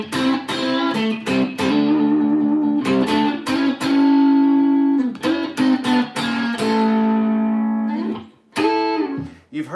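Electric guitar with a gritty, driven tone playing bluesy two-note phrases in short bursts and held bends, alone with no talking.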